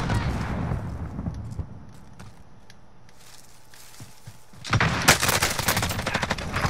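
Bursts of video game gunfire crackle in rapid volleys, quieter early on then swelling loud and dense in the final seconds, with footstep-like clatter mixed in.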